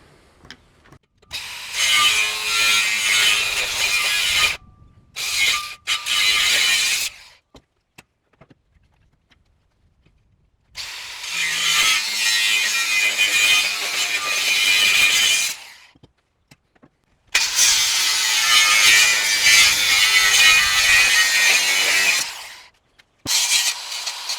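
Loud bursts of harsh, high-pitched grinding as metal is cut on a farm, three long passes and a few short ones, separated by brief pauses.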